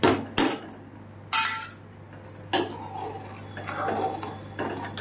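A utensil stirs urad dal cooking with bitter gourd in a metal kadai, giving several sharp, loud clanks and knocks against the pot, spaced irregularly over a few seconds.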